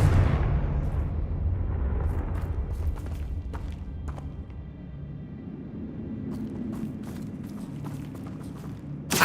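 Fiery blast of the Confringo spell in Hogwarts Legacy on PS5, a loud rumbling explosion that decays slowly, followed by scattered sharp cracks and debris clatter, with another burst at the very end.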